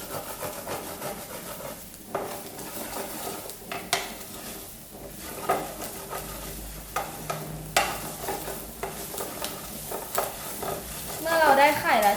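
An egg frying in a covered pan without oil, with scraping and clattering of cookware, a steady crackle throughout with occasional louder knocks, no talking.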